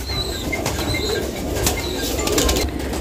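Kaldume pigeons in a loft coo softly, with bursts of wing flapping and rustling against a steady, busy background.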